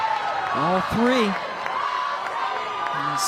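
A sold-out, record-size softball stadium crowd grows restless, a continuous roar of murmuring and shouts with a few whoops rising above it, heard from within the stands.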